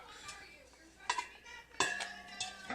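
A bowl being handled and scraped while making Tabasco sauce from seeds and peels, with clanks at the start and then sharper scraping and clinking strikes against the bowl, close and moderately loud.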